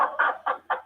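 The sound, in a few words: chicken clucking, built-in software sound effect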